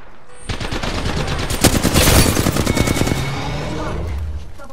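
Heavy video game gunfire, rapid automatic bursts rattling loud and close, peaking in the middle and trailing into scattered shots.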